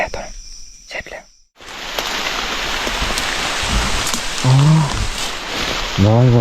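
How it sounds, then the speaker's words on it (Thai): Steady rain pours through a jungle at night, a dense, close hiss of drops mixed with constant insect chirring, and brief voices break in near the end. "ฝนตกแล้วนะ"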